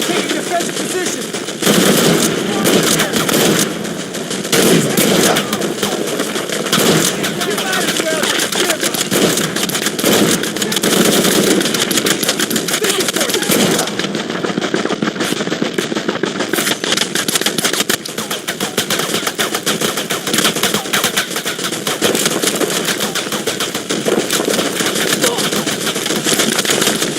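Enemy gunfire in Shadow of the Tomb Raider, a long, loud and unbroken stream of automatic fire crackling close by, with shouted voices mixed in throughout.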